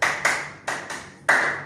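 Sharp hand claps in a counted clapping game during a micro-teaching practice class, about five crisp separate claps in small groups with brief pauses between, close and clear with no talking.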